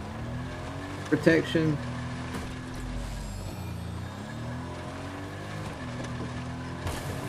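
A vehicle engine hums and shifts pitch steadily as it drives in Fortnite, with a brief voice and a few clunks early on over the game mix.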